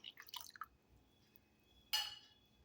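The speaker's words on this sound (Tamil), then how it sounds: "இப்போது 1 கப் பால் சேர்த்துக்கலாம்." Milk poured into a pot of water while making temple-style pongal gives a brief dripping, then a short louder liquid splash near the end, close and quiet, with no talking.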